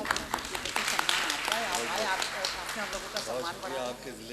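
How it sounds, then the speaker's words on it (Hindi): An audience at a poetry event in Hamirpur claps to welcome a guest, a scattered patter of hands running under someone speaking loudly into a microphone. "आप हज़रात तालियों से इस्तकबाल करें।"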